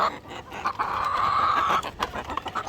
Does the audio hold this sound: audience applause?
no